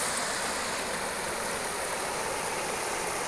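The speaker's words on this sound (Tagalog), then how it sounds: "ayan na lang ang dumadaloy na tubig dito guys" Water trickling and flowing over stacked rocks at a former mini falls, now reduced to a small stream after a typhoon; a steady, fairly faint broadband wash continues alone throughout.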